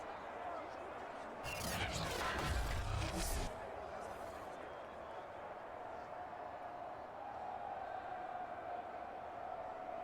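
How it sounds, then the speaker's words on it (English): Stadium crowd in a Madden 22 NFL simulation, Seahawks at Colts, a steady broad roar throughout that swells loudly for about a second and a half early on, then settles back to a constant wash of noise. "Listen to this crowd now"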